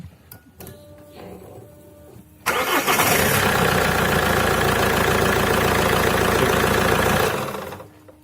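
An Alfa Romeo 156 engine cranks over and fires up at close range, then settles into a loud, steady running note for several seconds before fading out. A quieter mechanical hum sits in the background beforehand.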